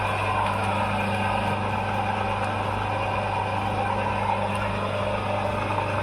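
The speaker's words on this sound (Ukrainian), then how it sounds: "Все, як бачимо, двигун запустився." An electric motor hums steadily and continuously just after start-up, a loud, even whir with a constant low tone and no speech.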